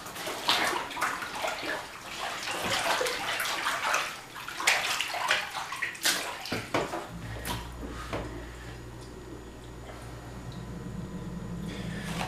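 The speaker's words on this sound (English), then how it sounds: "I'm going to go back to that kneading process that I did when I first washed it" A down quilt is kneaded in a tub of water to rinse out soap: wet squelching and sloshing in irregular pushes, close, giving way to a steadier low wash of water near the end.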